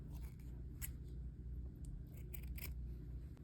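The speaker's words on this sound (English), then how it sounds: "And then cut off these frayed ends because we won't be needing those." Scissors trim the frayed ends off a piece of felt, giving a few faint, quiet snips over a low background hum.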